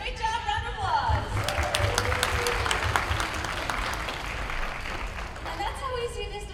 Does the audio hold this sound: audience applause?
yes